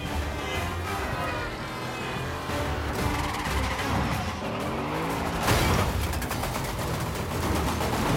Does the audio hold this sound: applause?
no